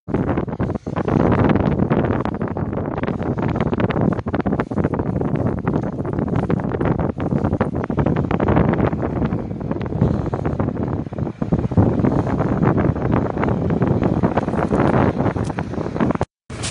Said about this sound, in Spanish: Hay mucho viento arriba del puente.